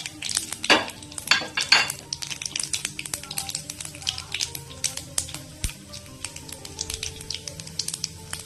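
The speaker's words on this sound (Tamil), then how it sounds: "கடுகு பொறிஞ்சதுமே உளுத்தம் பருப்பு கடலை பருப்பு எடுத்து வச்சுக்கோங்களா அதை வந்து சேர்த்துடலாம்" Urad dal and chana dal are added to popping mustard seeds in hot oil, making a faint crackling sizzle with a few loud utensil clinks and scrapes at the start, then scattered small pops.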